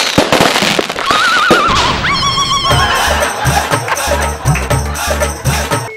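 A firecracker bomb goes off with loud, repeated sharp bangs mixed with whistling, crackling bursts, all close and busy.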